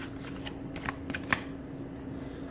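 Tarot cards shuffled and drawn during a reading, soft riffling and flicking with a few crisp card snaps, close and quiet over a faint steady hum, no speech.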